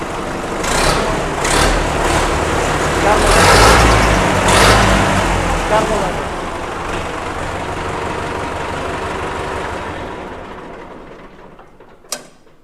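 A used tractor engine cranks and runs as a loud, steady diesel rumble for about ten seconds, then cuts off, followed by a sharp knock at the end.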